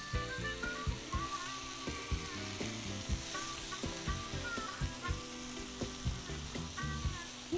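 Watermelon and shrimp sizzle steadily in a hot pan, with a loud continuous fry broken by repeated clacks and scrapes as pieces are flipped.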